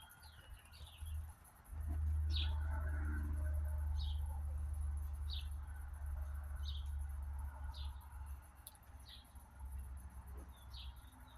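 Short, high bird chirps repeat about once a second, faint and distant over a steady low hum.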